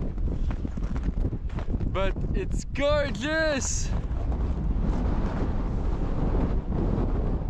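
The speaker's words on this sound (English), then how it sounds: "It's so windy!" Strong winter wind buffets the microphone with a loud, constant roar during freezing outdoor camping, while a woman exclaims briefly in the middle.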